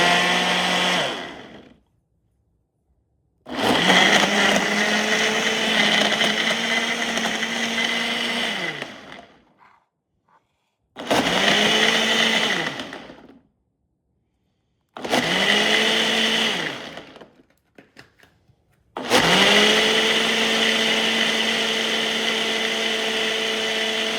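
Ninja BN801 blender crushing ice for a smoothie, running in four loud bursts with brief silent pauses between them, its motor pitch dropping and steadying as the ice breaks down.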